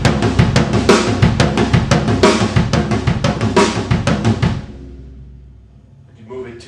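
Drum kit plays a linear groove with the right hand leading on hi-hat, dense rapid hits for about four and a half seconds, then stopping as ringing decays before a faint voice begins.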